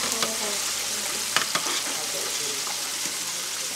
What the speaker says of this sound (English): I'm gonna stir my noodles some more